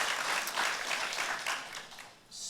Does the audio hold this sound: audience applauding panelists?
yes